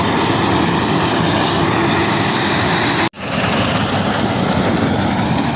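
A loud, steady Claas combine harvester engine drones continuously while harvesting soybeans in soft ground, briefly cutting out for a split second before roaring back at full strength.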